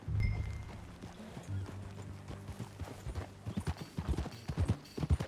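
Horse hooves clip-clopping steadily in Red Dead Redemption 2, growing louder and quicker toward the end, with a horse whinnying near the start over low rumbling background.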